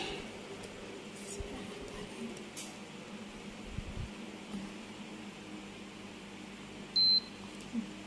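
A single short electronic beep sounds from a blood test meter after the blood is applied, close but faint over a quiet room hum, with no talking.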